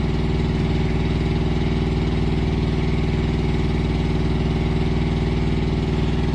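A Carrier reefer refrigeration unit on a truck runs its diesel engine in a steady, loud, low throbbing drone with constant vibration, close by and without a break.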